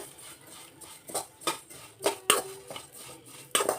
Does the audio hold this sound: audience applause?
no